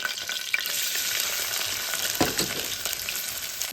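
Thinly sliced medium onion and small green chillies frying in a pan for tomato rice, a steady close sizzle with occasional stirring scrapes and no talk.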